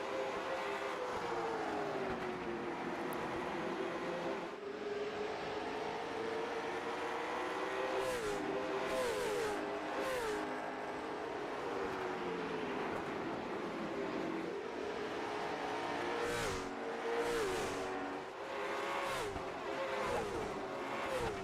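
Race cars roar continuously around an oval track at a stock car event, engines rising and falling in pitch as several cars pass close by and jostle for position, loud and steady throughout.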